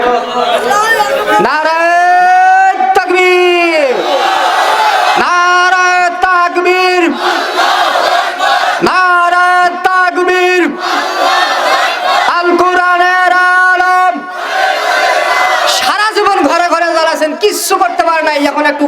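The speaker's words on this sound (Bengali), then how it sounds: "তাহলে একটা তাকবির হোক" A large crowd at an outdoor Islamic sermon chants the takbir in loud, repeated collective shouts, several drawn-out rounds of massed voices rising and falling over about nineteen seconds.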